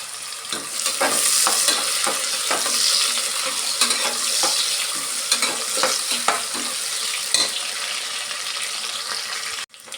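Chopped onions and curry leaves fry in hot oil for a lentil biryani, a bright sizzle punctuated by frequent clicking spoon stirs against the pan, close and steady, ending in a sharp knock.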